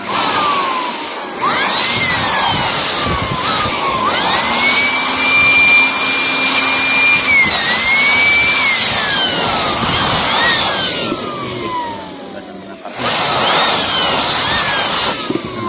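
An air blower whines loudly and steadily while cleaning out a Fujitsu fi-7160 document scanner, its pitch rising and falling in long sweeps with short bursts near the end.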